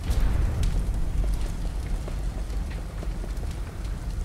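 A deep, muffled explosion rumbles somewhere in the background in Resident Evil 0 HD, a loud, sustained low roar with faint crackling that slowly eases off.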